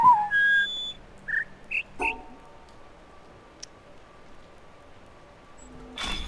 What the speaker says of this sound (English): Sort of warbles at first, then gets high-pitched.